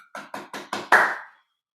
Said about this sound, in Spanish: Se den, por favor, un gran aplauso.